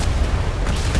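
A volley of ship's cannon fire in DarksideRP, aboard a first-rate sailing warship: a dense, loud, booming roar of overlapping shots with deep rumble and no voices.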